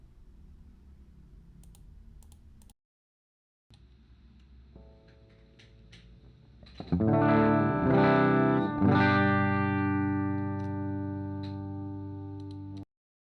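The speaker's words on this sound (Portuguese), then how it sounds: "deixa eu mostrar primeiro para vocês o som limpo da guitarra" A clean electric guitar tone plays through an audio interface and amp simulation on a laptop: a few faint picked notes, then louder sustained chords ringing out and slowly decaying, with a short silent gap early on.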